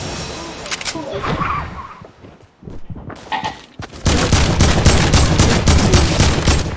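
Video game gunfire in a squad match: bursts of rapid shots and crackling volleys, sparse at first, then a dense, loud sustained barrage in the final seconds.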